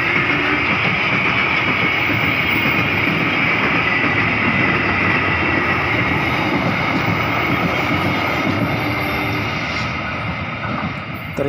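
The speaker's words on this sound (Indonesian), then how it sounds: "saya bertemu dengan kereta api Kricak yang ditarik oleh lokomotif CC201 dengan posisi long hood" An Indonesian Kricak passenger train hauled by a CC201 diesel locomotive running long hood forward passes a disused halt between Banjar and Kroya, a loud, steady roar of engine and rolling wagons sustained throughout without talk.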